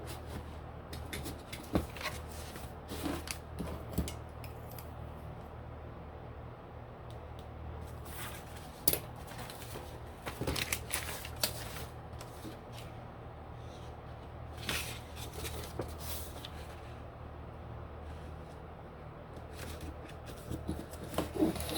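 Blade slicing through the bottom edge of folded paper signatures on a cutting mat, heard as soft repeated scraping rubs and small taps, close and quiet, with faint low background hum.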